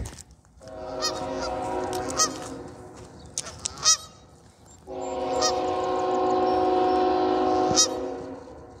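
Loud geese honking repeatedly and close beside a railway line in Bethlehem, Pennsylvania, long overlapping calls with brief pauses between bursts, a low train rumble underneath.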